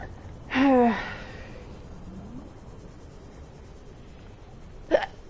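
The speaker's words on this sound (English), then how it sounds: "Oh, hiccups." Two distinct hiccups, a loud one near the start and a sharper, shorter one a few seconds later, stand out over a quiet low background.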